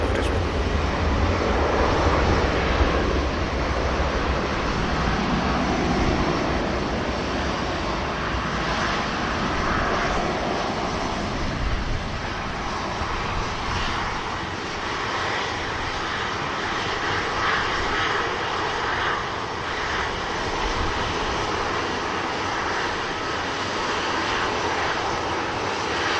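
Airliner jet engines roar steadily at an airport during take-off or landing. The broad, loud rumble and whoosh lasts throughout, with a faint wind hiss and no voices.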